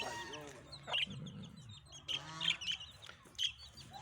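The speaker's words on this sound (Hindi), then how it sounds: "अब ये मुर्गी के बच्चे हैं" Faint, high-pitched peeping from several small chicks comes in scattered bursts over low background noise, quiet and somewhat distant.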